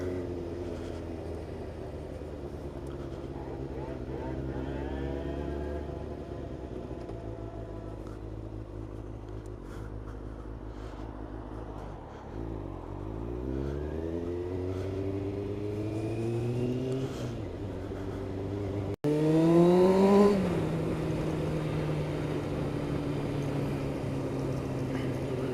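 Motorcycle ride recorded from inside a helmet fitted with a wind-blocking skirt: steady engine drone rising and falling through several gear changes under constant rushing air, with a sudden louder surge of wind and engine near the end.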